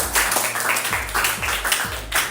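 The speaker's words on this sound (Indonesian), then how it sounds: "Beri aplaus buat kalian semuanya." A classroom of students applauds, with scattered bursts of hand claps at moderate loudness and an uneven, somewhat thin rhythm across the short stretch.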